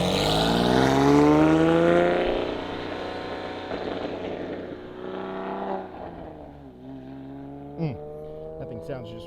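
Race car on a track during a trackday, engine revving loud and rising in pitch as it accelerates nearby, then fading with gear changes as it pulls away, a brief whoop and talk heard around it.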